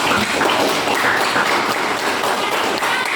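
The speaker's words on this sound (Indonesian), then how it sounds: "tepuk tangan dulu untuk kawannya" Students clapping together in a classroom teaching session, a dense, steady burst of applause lasting a few seconds with no talk over it.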